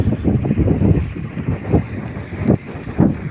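Strong gusts of wind buffet the microphone in uneven, rumbling bursts, with no voices.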